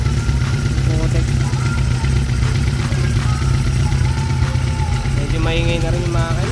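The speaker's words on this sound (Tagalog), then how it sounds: "Medyo maingay na rin yung makina." A Suzuki Impulse 400 motorcycle running aftermarket carburetor floats idles loudly up close, with a steady low rumble and mechanical clatter throughout.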